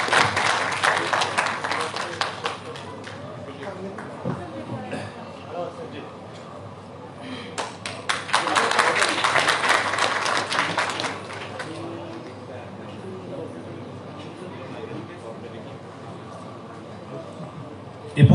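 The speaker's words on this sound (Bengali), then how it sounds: "একটা জোরে করতালি" An audience at a formal ceremony breaks into two bursts of applause, the first at the start and a louder one midway, moderately distant, while a person speaks over and between them.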